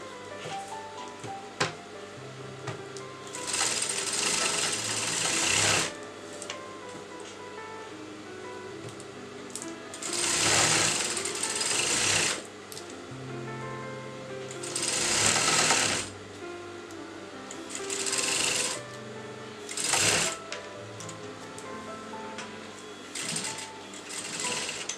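Sewing machine stitching lace onto the neckline of a kurta in several bursts of a few seconds each, close and steady, with brief pauses of fabric handling between runs.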